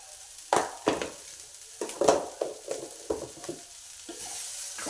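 Chili powder fries in a pan for sweet corn masala, giving soft sizzling with several sharp scraping stirs spaced out through the stretch, close by and fairly quiet.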